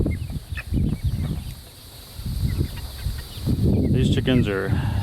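Chickens cluck and call inside a chicken tractor pen on an Oklahoma farm, short bursts of fowl sounds mixed with someone talking over them, close by and moderately loud.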